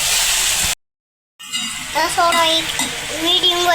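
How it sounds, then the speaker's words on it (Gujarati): Vasheti greens stirred with chilli powder in a hot pan give a loud, dense sizzle and scraping, which cuts out abruptly. The clip then continues with lower sizzling under a person talking. "મરચું નાખ્યા પછી જો આવી રીતે એને આપણે હલાવીને એકદમ બરોબર મિક્સ કરી લેવાનું છે"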